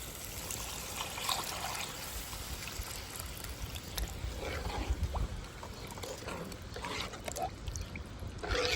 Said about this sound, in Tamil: இப்போ வந்து நம்ம கரைச்சி வச்சுருக்க புளி ஊற்றிக்கிறோம்